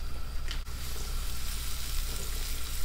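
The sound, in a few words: sautéing garlic, onion and tomato in a pan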